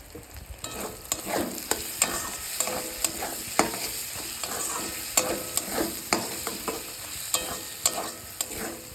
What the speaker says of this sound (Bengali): ভালো করে কষে নেব সামান্য পরিমাণে আর একটু তেল দিয়ে দেবো